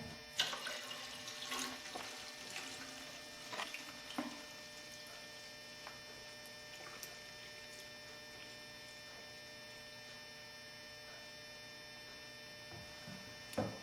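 Kombucha tea poured into a glass container, a soft steady trickle over a constant low hum, with faint splashes and drips near the start, fairly quiet and up close.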